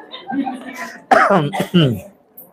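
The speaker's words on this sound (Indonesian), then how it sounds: "Ini batuk betulan bu." Two hoarse, throaty coughs sound up close, each short and voiced, following a brief murmur.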